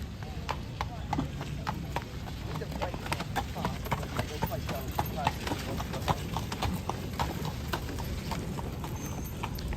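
Horse hooves clip-clop steadily on pavement as a horse-drawn carriage moves through Central Park in New York, a continuous brisk rhythm with people talking nearby.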